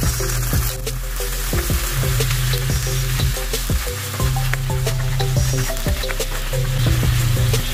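Water hits a hot pan of shrimp, broccoli and oyster sauce, and the sizzle turns into a loud, bubbling hiss, with the spatula scraping and clanking as the food is stirred.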